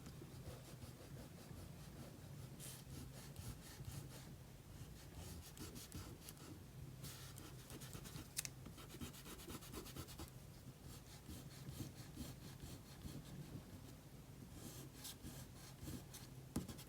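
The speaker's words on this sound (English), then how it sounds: "what I'm going to do is erase the lines inside of the rectangle, but leave the vanishing point" Rubber eraser rubbing out pencil lines on paper, a quiet, steady scrubbing with repeated back-and-forth strokes heard close and alone, faint throughout.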